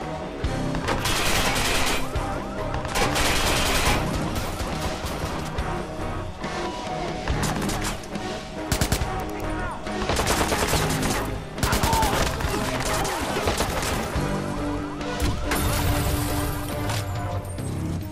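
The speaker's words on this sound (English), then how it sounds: "Shooting." Dense, loud gunfire in the video game Watch Dogs, rapid automatic bursts and single shots nearly nonstop over a background game soundtrack, with a few faint voice fragments.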